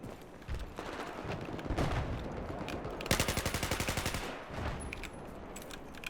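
Rapid automatic gunfire in a Battlefield 4 multiplayer match, with a dense burst of evenly spaced shots in the middle against a busy battle din of other weapons and explosions.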